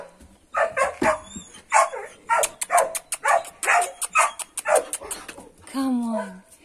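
A dog barks in quick repeated bursts and ends in a rising whimper, close by, with a person talking over and between the barks in a room.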